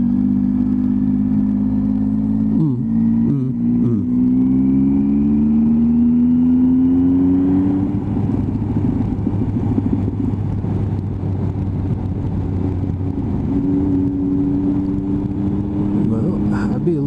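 A Triumph Tiger 800 motorcycle rides along a bumpy road on Route 666, its steady mid-pitched engine drone shifting pitch through gear changes, loud and close the whole time with wind rumble.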